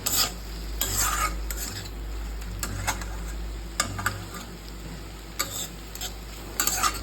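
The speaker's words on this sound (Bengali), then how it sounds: "এখানে হচ্ছে গিয়ে তোমার বড়িগুলোকে ভাজছি ভালো করে" Lentil dumplings (bori) fry in a pan with a steady sizzle under repeated scraping stirs and spoon clicks against the metal, close and fairly loud, with a low background hum and no talking.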